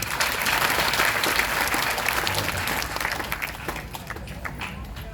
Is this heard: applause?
yes